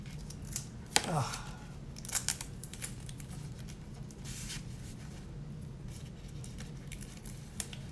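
Tape being pulled and wrapped around the top of a paper rocket tube: a sharp ripping pull of tape followed by soft crinkling and patting of paper, close by, under a person talking.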